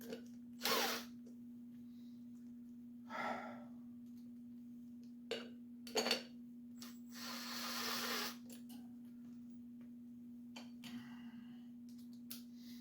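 Bolts are fastened back onto a 1986 Kawasaki KX 250 dirt bike with hand tools, giving a handful of short, close ratcheting and clicking bursts spaced out over a steady low electrical hum.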